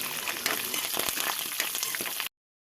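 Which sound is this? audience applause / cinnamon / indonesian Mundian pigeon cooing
cinnamon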